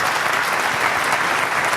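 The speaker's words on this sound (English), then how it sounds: "Let's give Sarah a huge round of applause." An audience applauds at the end of a Q&A session after a talk on handling difficult conversations, a dense, steady burst of clapping lasting about two seconds.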